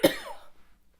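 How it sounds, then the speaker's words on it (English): A woman gives a single short, sharp cough close to the mic, then it trails off into near silence. "I can't cough through this whole thing."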